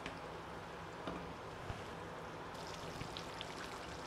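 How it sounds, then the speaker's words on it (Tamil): Banana stem tamarind gravy (vazhaithandu pulikuzhambu) bubbling in a pot, a soft continuous simmering wash with scattered faint pops and small bursts, steady and fairly quiet throughout, no voices. "இப்போ பாருங்கள் நல்லா கொதிச்சுட்ருக்கு பார்த்தீங்களா"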